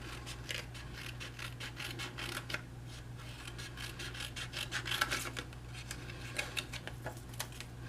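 Scissors cut out card pieces for a Broadway-themed shaker card, heard as faint, close, repeated snipping and paper rubbing in an irregular rhythm over a low steady hum.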